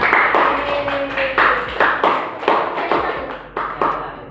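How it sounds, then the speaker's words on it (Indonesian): A classroom group gives applause for Group 3, a close, steady burst of hand clapping with an uneven rhythm that lasts a few seconds and then fades. "Kita beri aplaus untuk kelompok 3."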